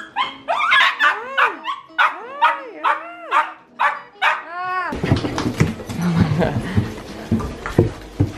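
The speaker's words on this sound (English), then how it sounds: "I wasn't going to let the dogs out of the kitchen, but I can hear them and they sound sad" Dogs shut in a kitchen whine and yelp in a run of high, rising cries. Then a burst of louder barking and commotion breaks out close by, with a person's excited voice mixed in.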